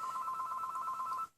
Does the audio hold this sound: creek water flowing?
no